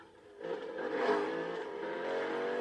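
McLaren P1 supercar engine in the racing game Need for Speed 2015, a steady loud revving drone that swells after a quiet start and holds at high pitch, with no talking.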